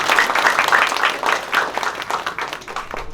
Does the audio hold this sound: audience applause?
yes